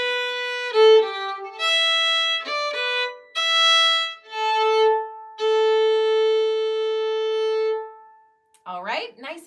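A fiddle plays a short, lilting phrase from a Scottish march on clear notes including open strings, some quick and some held, followed by a brief voice.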